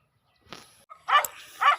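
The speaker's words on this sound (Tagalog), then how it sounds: "Daming aso mga kaabi." Dogs bark outdoors near a cockatiel's free-flight area, giving a few short, separated barks and yips at moderate distance.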